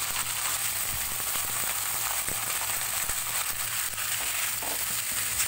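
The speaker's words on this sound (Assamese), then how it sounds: "তাৰপিছত ইয়াতে ডাইৰেক্ট মাংসখিনি দি দিম।" Chicken meat sizzles steadily in hot oil with bay leaf, cinnamon and dried red chillies for a Colocasia chicken curry, a dense continuous frying hiss with faint crackles and no talk.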